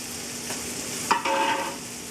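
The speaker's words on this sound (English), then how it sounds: "I'm adding the pasta." Fusilli caserecci pasta goes into a pot of boiling water and is stirred, giving a steady bubbling hiss with a brief splash and scrape of stirring partway through, close and alone.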